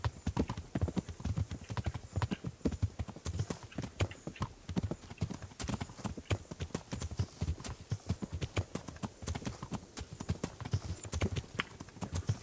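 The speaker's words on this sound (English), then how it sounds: "Love it when my horse is faster than everyone else's." Horse hooves gallop in Kingdom Come: Deliverance, a fast steady clip-clop of several hoofbeats close up, continuous and rhythmic on the ground, with no talking.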